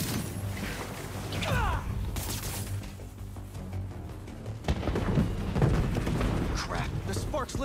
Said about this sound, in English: Wait, those fireworks are lit.